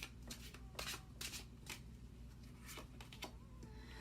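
Tarot cards are shuffled and drawn, producing quiet crisp riffling bursts and flicks in irregular clusters, close and faint, with no talk.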